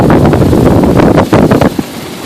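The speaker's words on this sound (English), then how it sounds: "The wind, I would estimate conservatively 22 to 25 knots, which is what it's supposed to be" Strong wind of about 22 to 25 knots gusts across the microphone while sailing off Catalina Island, a loud continuous roar with rushing surges and no talk.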